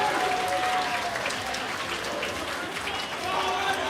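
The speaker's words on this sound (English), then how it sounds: "And the crowd is going crazy." Crowd at a live gaming event roaring and clapping in a loud, sustained wash of applause and cheers, with a commentator's voice talking over it.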